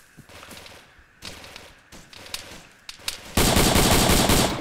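Gunfire in the video game Arma 3: bursts of automatic fire and single shots crack out in separate volleys, then a loud sustained stretch of rapid fire near the end.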